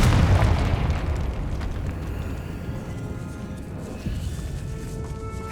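Confringo explosion spell cast in the Hogwarts Legacy video game, a loud low boom at the start that rolls off into a fading rumble.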